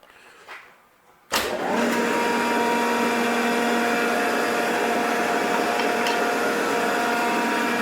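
A Rockford metal shaper starts up after a short quiet lead-in and then runs on a slow setting of about 15 feet per minute, giving a loud, steady mechanical whir with a constant hum and no talk.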